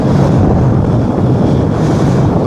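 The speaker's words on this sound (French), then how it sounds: "il y a du vent" Steady, loud wind roaring and buffeting the microphone during a paramotor landing approach, with a constant low rumble throughout; no voices.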